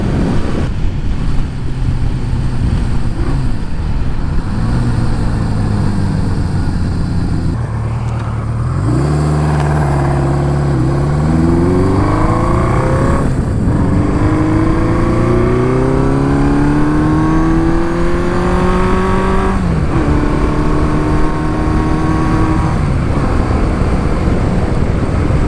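A car cruises along the road at about forty miles an hour, its engine droning steadily with rising and falling pitch as it shifts and accelerates, wind rushing loudly throughout and no talking.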